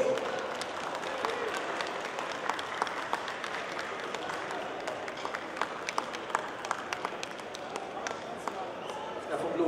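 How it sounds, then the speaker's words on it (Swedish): A crowd applauds steadily at a festival opening and prize ceremony, with many hands clapping in a dense, continuous patter from a moderate distance. "En applåd!"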